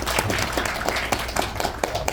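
Applause from an audience at a Korean political gathering as guests and officials are introduced, a dense patter of many hands clapping steadily throughout at moderate loudness with some background murmur.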